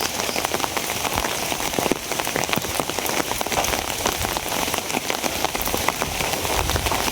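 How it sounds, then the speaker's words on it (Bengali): Heavy rain pours steadily onto surfaces nearby, a dense, loud, unbroken hiss of drops lasting the whole time with no voices. "সীমা বৃষ্টির মধ্যে বাড়িতে আছে, বৃষ্টির মধ্যে বাড়িছে কেন?"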